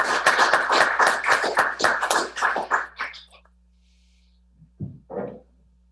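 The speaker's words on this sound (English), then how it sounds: "Yes, let's hear real applause." A small town council meeting audience claps in a quick burst of close applause lasting about three seconds, then fades, followed by a couple of faint knocks.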